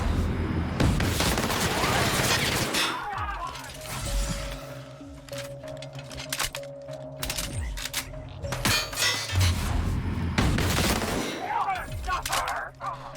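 Gunfire from a weapon in The Outer Worlds, dense bursts of rapid shots at the start and again near the end, with quieter mechanical clicks and a low tonal hum between volleys.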